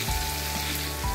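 Mushroom gravy masala with cashew and sesame paste sautéing in a pan, a soft continuous sizzle with faint stirring, heard alone and fairly quiet.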